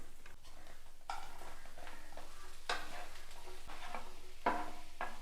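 Chicken sausage is stirred into frying masala in a pan, with a soft steady sizzle under several scraping strokes of a spoon, fairly quiet and close.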